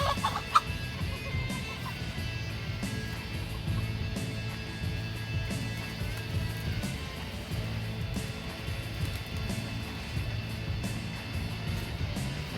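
Backyard chickens clucking softly as they are walked out to forage, repeated low clucks in a steady rhythm over faint outdoor background, fairly quiet and without talking.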